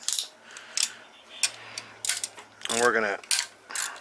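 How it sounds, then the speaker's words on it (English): A hand ratchet wrench working the oil pan bolts on a VR6 engine: several short, close clicking ratchet bursts, with someone speaking briefly partway through. "My handy dandy ratchet"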